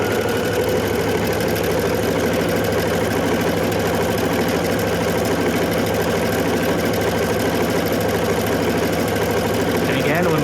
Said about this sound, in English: So we're going to start sewing again.